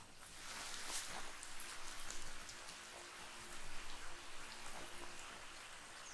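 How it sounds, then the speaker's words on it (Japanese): Steady rain pours in the open-world action RPG Biomutant, a dense, even hiss with soft patter and occasional louder splashes, continuous and fairly quiet throughout with no voices. "雨が降り出したぞ。 いや、もともと降ってるよ。"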